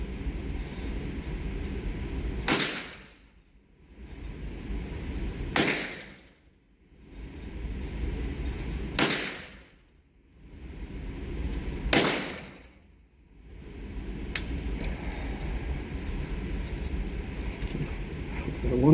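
Smith & Wesson .32 revolver firing test loads outdoors: four sharp, well-spaced gunshots a few seconds apart, each cutting through steady background rumble, followed by a fainter fifth report near the end.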